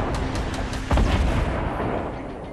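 Rocket explosions in Fortnite land as one loud, booming blast partway through, with a dense wash of battle noise before and after it.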